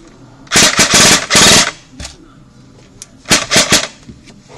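An Echo1 MTC airsoft gun firing in two loud, close bursts of rapid automatic shots separated by a pause, with a few faint clicks in between.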